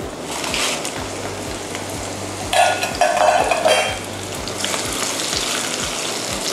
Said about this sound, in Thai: และสุดท้ายนะคะก็นำพริกแห้งทั้ง2ชนิดนะคะลงทอดค่ะ